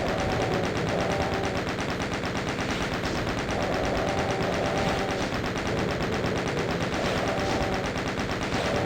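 Sustained rapid machine-gun fire from the video game DOOM, a dense unbroken stream of shots repeating evenly for several seconds, loud and close with no talking over it.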